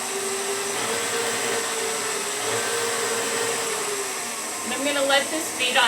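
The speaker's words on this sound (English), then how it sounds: "let this beat on high for probably about 5 to 7 minutes." Electric stand mixer with a whisk attachment beating icing on high, a steady loud motor whine and whir, close by, with a brief clatter near the end.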